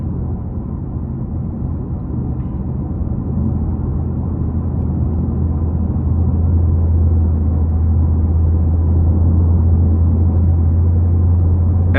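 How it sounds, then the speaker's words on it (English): A low, steady exhaust drone from a 2016 Lexus RC F V8 sports car cruising at low revs, a deep rumble that swells slightly toward the end. "I love the sound from the exhaust though."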